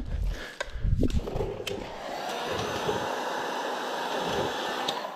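Heat gun blows a steady, loud whooshing stream while warming vinyl wrap on a pickup truck, after a few brief knocks and handling noises at the start.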